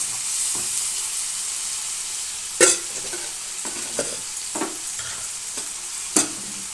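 Curry leaves sizzle in hot oil in a pan while a spoon scrapes and stirs them, with a constant frying hiss and sharp clinks against the metal.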